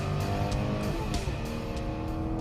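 Aston Martin Vanquish engine droning steadily close by with shifting tones that suggest paddle-operated gear changes, a continuous loud rumble across the whole stretch.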